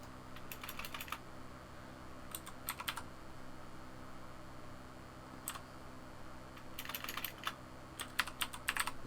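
Typing on a computer keyboard, with short clustered bursts of light, quiet key clicks separated by pauses over a steady background hiss, and no voices.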